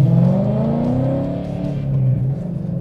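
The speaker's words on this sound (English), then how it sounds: "That's just rolling through the gears a little bit." A Coyote V8 Mustang accelerates hard through the gears, its engine note climbing, dropping at each shift and climbing again, loud and close throughout with no talking.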